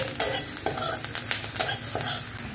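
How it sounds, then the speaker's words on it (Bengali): Onion and garlic fry in a little oil in a pan for fried rice, with a soft sizzle under repeated scraping stirs of a spatula, close and moderately loud. "তো আমি পেঁয়াজটা আর রসুনটাকে একটু ভেজে নিচ্ছি"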